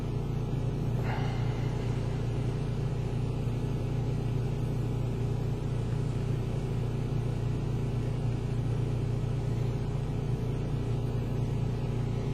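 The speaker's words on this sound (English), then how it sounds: "the generator inside the truck is about 52 decibel" A steady, low drone from a homemade truck APU generator running inside the truck hums on without change, a constant mechanical running sound at a moderate, even level, about 52 decibels.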